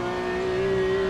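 LMP2 prototype race cars in the Le Mans Ultimate racing game, a sustained high engine whine holding a steady pitch as they pass close by, loud and alone for about a second.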